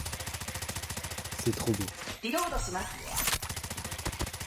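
Rapid automatic gunfire rattles in a rhythmic burst from a video game weapon with bullet trails, briefly broken by other game effects, while someone speaks over it.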